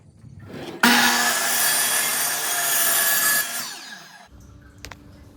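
A saw cuts a 7.25-inch 1x cedar board down to 12 inches. It starts with a sharp onset, then gives a loud, continuous whining rasp for about three seconds that winds down. Quieter handling noises follow.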